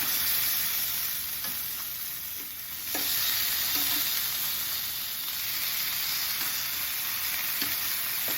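Chicken pieces frying in hot oil for a chicken and sausage gumbo, a steady dense sizzle running throughout with occasional soft clicks of stirring and turning, close and alone with no talk.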